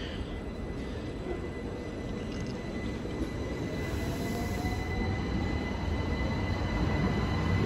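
A Class 375 electric train at Ashford International station gives a loud, steady rolling rumble with a faint thin wheel squeal running throughout. No voices are heard.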